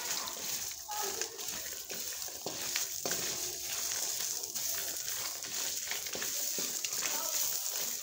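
Fresh green chickpeas are roasted in a pan, giving a continuous rustling sizzle and frequent stirring scrapes that go on steadily at close range.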